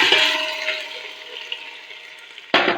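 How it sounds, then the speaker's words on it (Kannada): Mutton pieces drop into a hot pot of onion, garlic and ghee, setting off a loud, steady sizzle that slowly fades, with a second burst of sizzling at the end. "ಈಗ ಈ ಮಾಂಸವನ್ನು ಇದಕ್ಕೆ ಹಾಕುವ"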